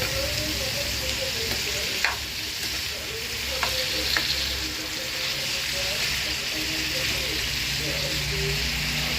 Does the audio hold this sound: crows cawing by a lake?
no